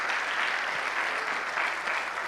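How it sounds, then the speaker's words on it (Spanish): A church congregation claps loudly, with steady dense applause from many hands held at an even level throughout, heard alone without talk. "Dale un fuerte aplauso a Dios."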